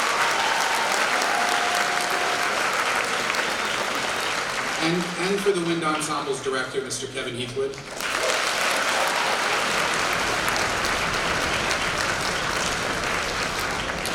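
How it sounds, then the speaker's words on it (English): A school audience at a Founder's Day event gives its wind ensemble a steady, loud round of applause. The clapping dips briefly while a man announces over it, then surges back and continues. "I think we should another round of applause for our wind ensemble."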